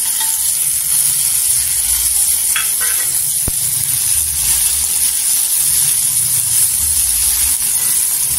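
Chopped tomato is added to a hot pan of oil and sizzles for a spiced potato and eggplant curry. A loud, steady frying hiss continues close up, with a brief clink of a utensil partway through.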